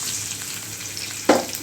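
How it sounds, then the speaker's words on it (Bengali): Onion frying in a pan, a steady sizzling hiss broken by one short, louder stir or scrape near the end. "পেঁয়াজটা ভাজা করে নেব"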